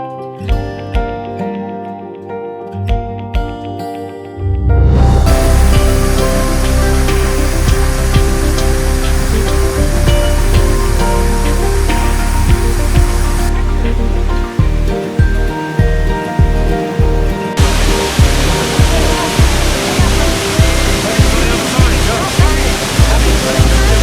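Waterfall near Stavanger in the Norwegian fjords, a loud, steady broadband roar of falling water close by, preceded by a few seconds of quieter ambience before the torrent swells in and holds, with rhythmic thumps later.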